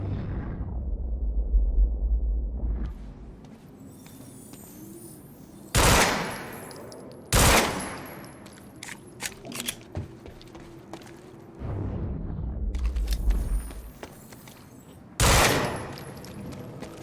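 Gunfire and explosions in the Quantum Break video game: a low rumble followed by several loud, sharp blasts and crackling bursts of shots spread across the scene, close and heavy.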